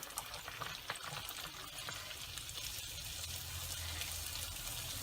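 Rice batter for white paniyaram fries in hot oil, giving a soft, continuous sizzle and crackle with no talking.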